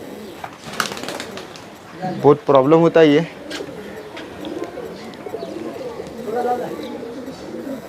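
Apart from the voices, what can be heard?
pigeons being released, cooing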